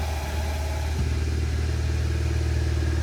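An Audi S1 engine idles steadily with the clutch pedal pressed, giving a constant low drone with a faint whining, rattling layer over it, heard close and without talk.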